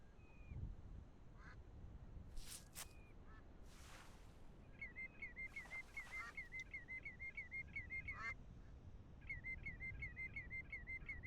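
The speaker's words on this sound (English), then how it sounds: "Something just flopped around that maybe birds landing" Birds flutter and land at night in the pre-alpha game BULT, with a faint rustle and flap, repeated duck-like quacking calls and soft whooshing bursts over a quiet ambient bed.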